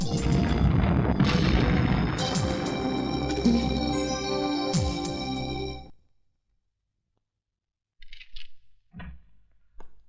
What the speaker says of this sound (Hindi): यकीन नहीं आता तो अपने गोडाउन के धमाकों की आवाज को सुन